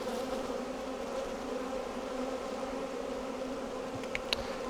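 A dense, steady drone of honeybees buzzing in and around a hive, many insects blending into one continuous hum, with a couple of brief sharper buzzes near the end.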